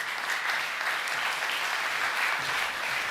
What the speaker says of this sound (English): one more round of applause too for Mr. McCluskey and the Sports Department